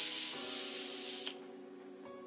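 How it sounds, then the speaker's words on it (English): Morphe makeup setting spray mists out in a steady close hiss lasting about two seconds, ending with a brief, louder final spritz. "I just love the way that that sprays."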